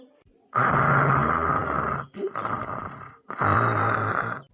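An elderly grandmother asleep snores heavily: three long, loud, rasping breaths with short pauses between, close and dominant.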